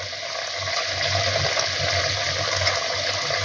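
Pieces of fish go into a simmering mustard-poppy gravy, giving a steady, close bubbling and sizzling hiss with no talk over it.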